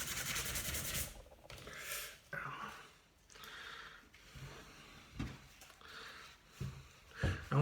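A wooden sign is hand-sanded with finer-grit sandpaper in close, rhythmic back-and-forth rubbing strokes, several in a row with short pauses, fairly quiet.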